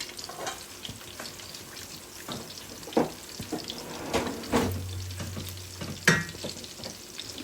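Bay leaf, cinnamon and cardamom sizzle in hot oil in a pan for a rohu fish kalia: a steady, close frying hiss with occasional soft clinks and stirring knocks, and no voices.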